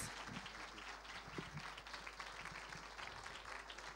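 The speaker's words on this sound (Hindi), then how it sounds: "ज़ोरदार तालियां बजाएं आप यीशु मसीह के लिए बजा रहे हैं" A congregation at an Urdu church service gives enthusiastic applause as a soft, continuous wash of many hands, faint and distant beneath a low steady hum.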